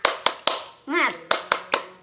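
Children in a classroom clap a rhythmic spirit cheer, six sharp claps spaced evenly around a brief chanted voice in the middle, crisp and close.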